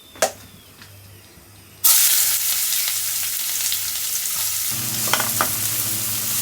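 Nuts, likely almonds, slowly frying in a home pan, a steady broadband sizzle starting abruptly after a quiet opening tap and continuing to the end, with a few stirring clinks and a low hum underneath.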